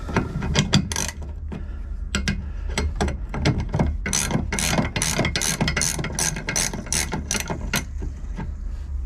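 Wrench ratcheting off a nut on the hydraulic steering of a 1989 Bayliner 3888 motor yacht, a close, loud run of rapid clicking bursts repeating steadily over a low background hum.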